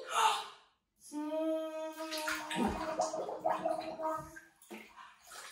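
A baby blows bubbles in pool water: a steady, close gurgling burble with a voiced, hummed tone running through it for several seconds, then a brief breath.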